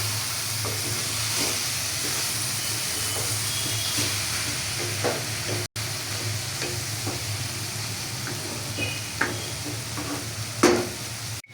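Shredded cabbage fries in a pan with a continuous close sizzle, broken by intermittent stirring clicks and a sharper scrape near the end.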